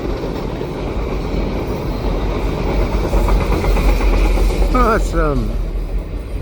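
A CN freight train led by an SD75ACC and a Via Rail LRC passenger train pass at Sainte-Anne with a steady loud rumble, clacking wheels and squeals, while people talk over it.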